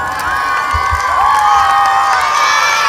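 An audience at a school tenth-anniversary show cheers loudly with children shouting and some clapping, a dense continuous crowd roar that swells slightly toward the end.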